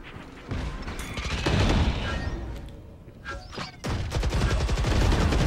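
Gunfire in the video game Fracture, aimed at a teleport: bursts of rapid automatic shots with crashing impacts, loud and close, pausing briefly before a renewed volley.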